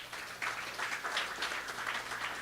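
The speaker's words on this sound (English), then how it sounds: "I want you to give him a round of applause." An audience at a Ganesh Utsav celebration applauds steadily with a dense, even patter of many hands at moderate distance, and there is no speech over it.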